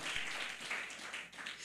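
A church congregation clapping during a sermon, dense sustained applause from many hands filling the room, swelling and easing slightly over a brief stretch.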